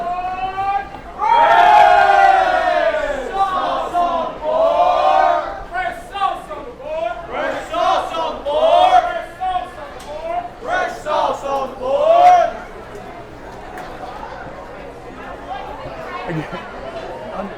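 Loud crowd chatter and bustle fills a busy Buc-ee's travel store, a dense wash of many overlapping voices and shouts that swells and stays noisy, easing a little toward the end.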